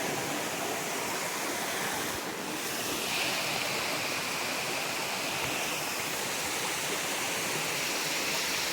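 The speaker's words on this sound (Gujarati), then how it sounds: "આની અંદરથી હેઠેથી પાણી લે છે અવાજ આવે" Water gushing out from under a big rock on a hillside stream, a loud continuous rushing wash close to the microphone with no voices.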